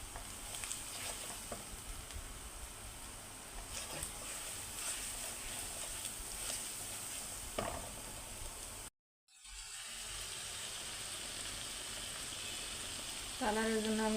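Beef curry spice paste with cumin, salt and Kashmiri chilli powder frying in a pan, a steady quiet sizzle with faint stirring taps, broken by a brief silent gap midway.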